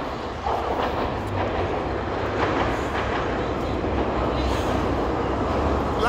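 A subway train moves through a metro station in Chengdu, its steady rumble and wheel clatter close and continuous for the whole stretch.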